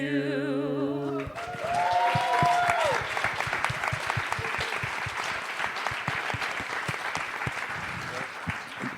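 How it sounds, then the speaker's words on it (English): A sung tune gives way to strong audience applause for panelists at a TrustCon conference session, dense sustained clapping from a large crowd with voices calling out over it. "Guys, don't stop clapping. Keep clapping for our brilliant panelists."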